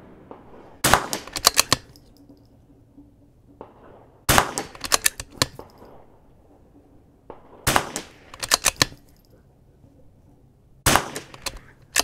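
A rimfire rifle fires at a target on a range in four separate bursts of sharp, rapid cracks, each cluster loud and close, with quiet gaps between.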